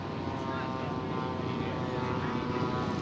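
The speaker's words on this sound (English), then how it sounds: "These are nice flying aircraft, these shoestrings." A radio-controlled scale model Shoestring racing plane flies past at a scale aircraft show, its propeller engine giving a steady, continuous drone that holds fairly loud throughout with no break.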